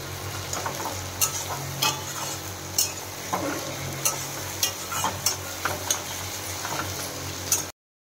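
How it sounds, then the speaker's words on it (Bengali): Spices for a meat curry frying in a pan, a soft steady sizzle punctuated by regular sharp taps and scrapes of a spoon stirring against the metal, ending abruptly. "এটাকে ভালো করে ভেজে নেব।"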